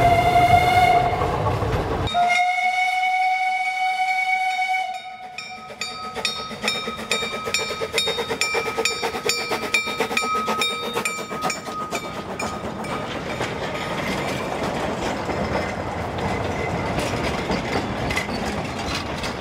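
A train brakes on a steep railway at about 20 km/h, rumbling with steady clattering and high squealing tones from the wheels and brakes, a whistle-like pitch sounding at the start.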